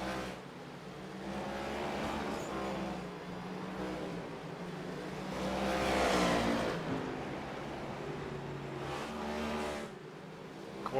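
Race cars in a FUN League all-star race run laps late in a 100-lap event, a steady engine drone with a louder swell as a pack passes near the middle, then fading.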